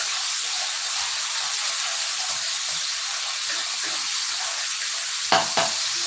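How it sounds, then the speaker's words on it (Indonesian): Spices stir-fried in a pan while cooking tumis kangkung with teri, a steady close sizzle and hiss throughout with two brief scraping stirs near the end. "ini kalau udah sedikit wangi ya kita tumis sampai wangi"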